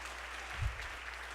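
Congregation in a church applauding as an offering to God, a soft, distant patter of clapping across the short stretch with a low thump in the middle.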